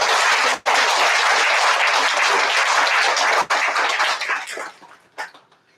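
Loud, dense applause from a church congregation for a youth church leader, continuous clapping that holds steady before thinning out and fading near the end.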